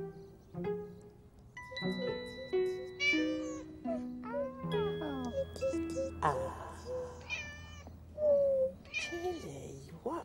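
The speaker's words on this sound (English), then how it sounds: "Yeah, a little kitten." A kitten meows repeatedly in short, high, varied cries in a children's television show, mixed with background music and people talking.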